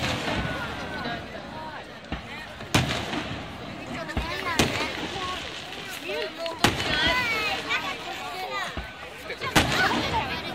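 Repeated sharp booms of halftime fireworks bursting at irregular intervals at a J1 football match in Shonan, loud and echoing, over a steady murmur of crowd voices.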